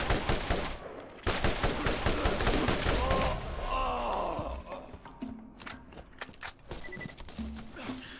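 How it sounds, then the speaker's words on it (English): Enemy gunfire in the video game Borderlands: a flurry of sharp shots at first, thinning to sporadic cracks, with groaning vocal sounds in between. "Alrighty, who's shooting at us?"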